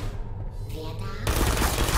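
Automated turret gunfire in the video game Portal: a quiet, muffled stretch gives way to a loud, sustained burst of rapid shots that fills the last second.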